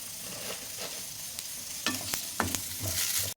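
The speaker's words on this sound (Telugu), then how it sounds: "ఒక 2 స్పూన్లంతా నువ్వులు కూడా మనం దీంట్లోనే యాడ్ చేసుకుందాం. దీంట్లోనే కొంచెం ఫ్రై అయిపోతుంది." Sesame seeds frying in a spoonful of oil in a pan for aloo kofta curry, a steady close sizzle broken by a few sharp scraping stirs.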